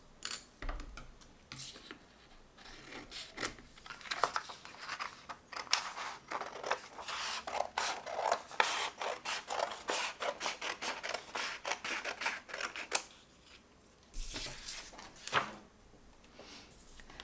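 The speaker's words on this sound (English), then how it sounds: "Now with the scissors, we are going to create small windows where these lines are" Repeated scissor snips and paper rustling close by, steady clusters of crisp cuts for most of the stretch with brief pauses, as slits are cut for a zoetrope.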